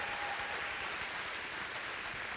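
Audience at a college convocation giving a round of applause for retiring staff, a continuous crackle of many hands clapping, fairly soft and somewhat distant, steady throughout.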